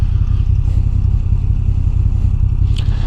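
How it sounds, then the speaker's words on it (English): A 2022 Moto Guzzi V9 Bobber cruiser motorcycle rumbles with a loud, steady low engine throb close by, and a brief mechanical clunk from a gear shift comes near the end. "Hear those shifts? Nice clunk on the shifts."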